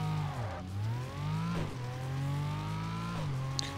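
Loud, steady engine drone of a Renault in the PS2 racing game Tokyo Xtreme Racer Drift 2, pitch rising as it revs, then dipping with each gear shift, three shifts in quick succession, with no talk over it.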